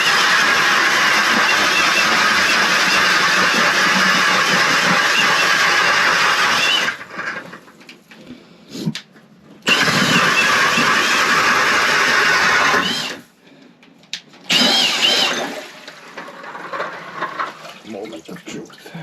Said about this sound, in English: today I'm using the K drill, and we'll see how it works